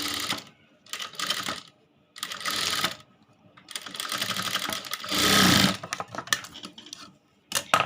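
Sewing machine stitching along a fabric frill, close and loud, running in bursts of steady rapid whirring separated by short pauses, with no talk over it.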